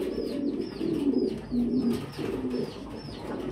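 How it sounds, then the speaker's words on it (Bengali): A fancy pigeon coos close by in repeated soft, throaty rolling calls, with faint chirps from other birds in the background. "এখানে আরেকটা পেয়ার কবুতর দেখানোর মতো একটা কবুতর"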